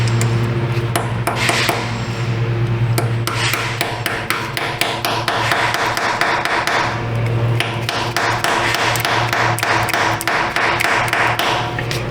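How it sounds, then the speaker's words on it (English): Repeated hammer blows drive an extractor twist socket onto a broken exhaust manifold bolt on a 2020 GMC 2500HD 6.6; sharp metallic strikes come steadily and close up, in quick runs with brief pauses. "Maybe I could get a bigger hammer even."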